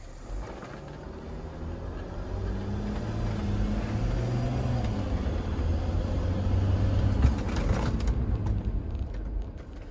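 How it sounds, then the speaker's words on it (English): A car with an adaptive shock system accelerates gently to about 15 mph and then brakes sharply, heard as a steady rolling rumble and road noise from inside, swelling slightly before a brief jolt near the end. "we wanna accelerate gently to 15 miles per hour, and then sharply apply the brakes"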